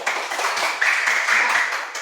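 Students in a classroom clap together for a group's answer, a brief, fairly loud patter of many hands running on without pause.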